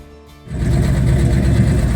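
An old vehicle just pulled out of the weeds starts after a brief quiet moment, then runs roughly with a loud, uneven chugging clatter close by.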